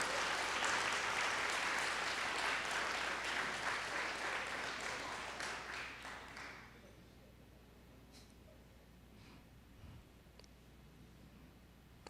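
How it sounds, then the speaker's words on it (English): An audience at a community college fall convocation claps steadily for about six seconds, a dense wash of hands that fades out, leaving quiet room tone with a few faint clicks. "Let's give them a huge round of applause."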